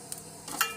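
Eggplant frying in oil in a pan crackles faintly, with a brief stir-like scrape and a small sizzling burst near the end of a short stretch.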